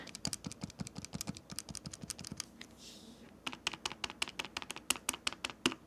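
Face buttons clicking on MagicX Zero 40 and Trim UI Brick handheld game consoles, rapid close-up plastic taps in quick, uneven runs with a brief pause midway, quiet and crisp.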